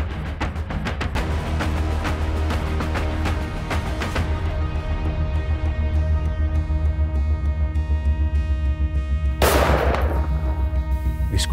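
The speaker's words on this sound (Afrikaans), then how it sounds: "Skoot trek." A single sharp, loud rifle shot is fired during a warthog hunt in the North West at Shammah Game Lodge. It cuts through a steady, droning engine-like hum that runs underneath throughout.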